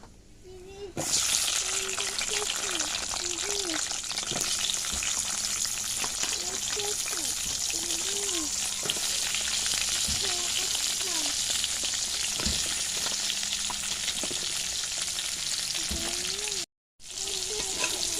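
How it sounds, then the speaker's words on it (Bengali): Pointed gourd (potol) fries in hot oil in a pan, giving a loud, dense, continuous sizzle with crackles and occasional tool clinks, plus a brief dropout near the end. "পটলগুলো ভেজে নেব।"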